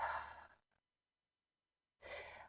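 A deep, breathy exhale during a yoga pose, close and soft, fading out. After a short silence, a second breath follows.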